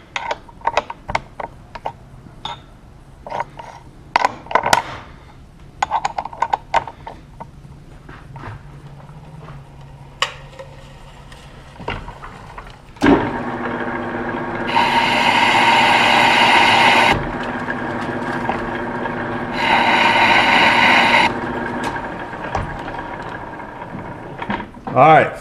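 Metal lathe turning a flywheel to lighten it, a steady loud cutting whine with strong tonal bands starting midway and running in two sustained stretches, after scattered clanks and tool handling noises.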